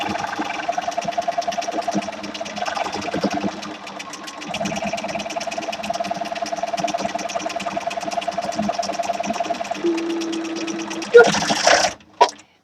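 Sewing machine stitching the top and bottom edges of a fabric face mask, a sustained rhythmic mechanical hum with slight changes in speed, close by, with a voice talking intermittently over it before it stops.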